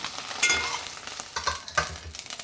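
Okra pieces frying lightly in hot oil for a curry, with a steady crackling sizzle broken by a few sharper pops and stirring scrapes, close and moderately loud, no voices.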